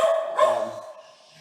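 A dog barks loudly and close by in a couple of quick yaps that trail off into a softer whine.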